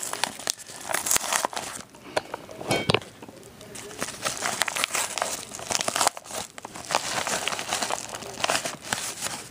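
A cardboard shipping package of coins from an online coin dealer being cut and torn open up close, with irregular crinkling, ripping and scratchy tearing bursts throughout, and a voice briefly talking.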